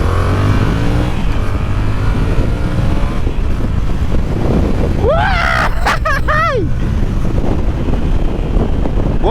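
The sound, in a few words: motorcycle engine revving as rider sets off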